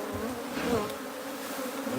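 A dense, steady buzz comes from many honey bees swarming close by while a wild hive is moved into a new box. The droning stays continuous throughout.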